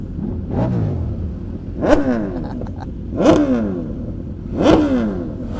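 Sport motorcycles, among them a new BMW S1000RR, rev hard and accelerate past at a cars and coffee meet, three loud swelling passes that rise and fade in turn, with no talk.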